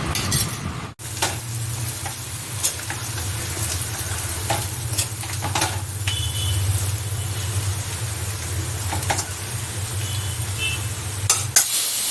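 Onion tempering with dried red chillies sizzles in a pan for pepper rasam, a steady close crackle with intermittent metal stirring clinks and scrapes and a low background hum.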